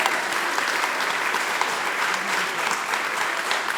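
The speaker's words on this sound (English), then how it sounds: "Mary, I think, deserves special applause for her patience" Audience applause at a portrait unveiling ceremony, brisk dense clapping from a roomful of people, close and steady throughout.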